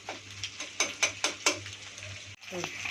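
Dry noodles crushed into small pieces by hand, giving a run of sharp crackling crunches in quick rhythm, close and fairly loud, followed by a brief pause and softer rustling.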